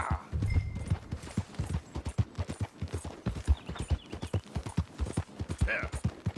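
Horse hooves clip-clop in a brisk, steady rhythm in the video game Red Dead Redemption 2, close and continuous, with a brief whinny-like sound near the end.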